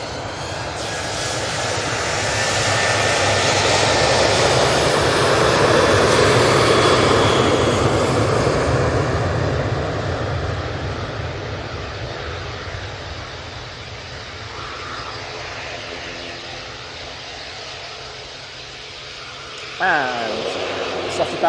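A propeller airliner takes off from Manchester Airport for Belfast, a loud close engine roar that builds to a peak and then slowly fades into the distance, with a short sharp knock near the end.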